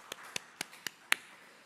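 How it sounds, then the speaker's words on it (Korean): Clapping during a church's Wednesday worship service: five sharp, close, evenly paced hand claps, the last one loudest, then quiet, with no talking. "하나님께 영광의 박수 올려드립니다."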